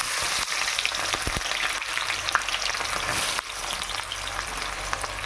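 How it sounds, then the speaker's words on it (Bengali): Onions dropping into very hot oil for birista, frying with a loud, steady crackling sizzle and a few sharp pops, close up with no talking. "বেরেস্তা ভাজার জন্যে আমি তেলটা খুব ভালোভাবে গরম করে নিয়েছি। এইবার আমি পেঁয়াজটা"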